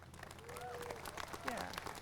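Scattered clapping from a community college commencement audience, fairly faint and distant, mixed with crowd murmur in a large hall for about two seconds.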